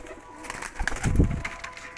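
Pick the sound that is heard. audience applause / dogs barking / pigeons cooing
pigeons cooing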